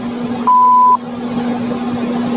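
A single voicemail beep sounds, a steady pure tone lasting about half a second over a constant low electrical hum.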